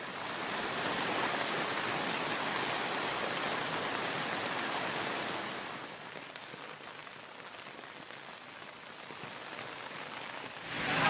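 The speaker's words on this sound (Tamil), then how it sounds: "சுமார் 1 மணி நேரத்திற்கு மேலாக பெய்த மழையின் காரணமாக சாலைகளில் மழைநீர் பெருக்கெடுத்து ஓடியது" Heavy rain pours steadily in Kovilpatti, with rainwater running along the roads; a dense, continuous hiss of rainfall on surfaces, loud at first and easing slightly midway, with no voices.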